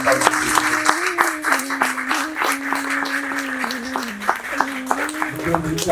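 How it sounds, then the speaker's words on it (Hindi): An audience claps after a stage play, steady applause running throughout, with a sustained musical tone holding underneath the clapping. "शानदार ताली होनी चाहिए।"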